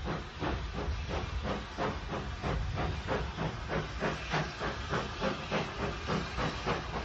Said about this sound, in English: Maunsell Mogul on the stopping train leaves Paddock Wood almost simultaneously with the train for the Hawkhurst branch